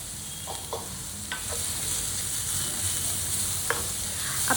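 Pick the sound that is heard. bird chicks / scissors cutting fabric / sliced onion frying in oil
sliced onion frying in oil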